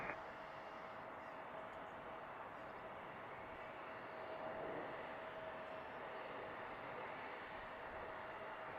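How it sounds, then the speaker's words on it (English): A Boeing 737 MAX 9 airliner on final approach over Boeing Field, a steady faint jet engine roar from a distance that swells slightly midway, alone with no talking. "we have a 737 MAX 9 on final as well, right over Boeing Field"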